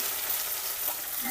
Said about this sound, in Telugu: బెండకాయ బాగా ఫ్రై అయ్యి మెత్తబడేంత వరకు వేయించుకుందాం.